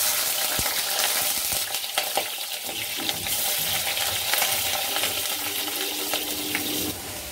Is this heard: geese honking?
no